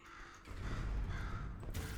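A crow in the Portal video game gives a couple of harsh caws over a low rumbling mechanical background, close and fairly loud, with a creaky tone.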